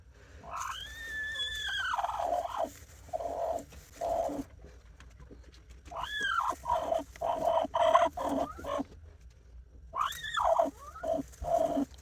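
A brooding hen sitting on a clutch of chukar partridge eggs gives soft clucks and low throaty coos in close, repeated bursts with short pauses between them.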